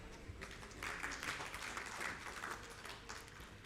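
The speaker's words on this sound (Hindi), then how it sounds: "तालियों के साथ स्वागत कीजिए।" Audience clapping at a formal ceremony, a steady wash of applause from a crowd that swells after the opening moment and keeps going evenly throughout.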